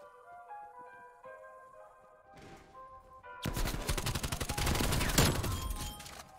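Black Ops Cold War gameplay brings a rapid burst of gunfire after a quiet stretch of game music, loud dense shots crowding the last few seconds.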